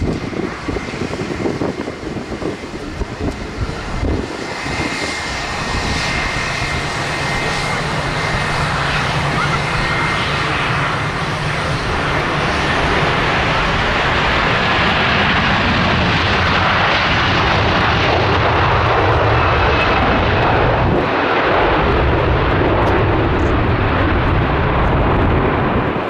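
A jet airliner takes off at Manchester Airport, a loud, sustained broad engine roar that builds and holds through the whole stretch, with wind buffeting at the start and no speech over it.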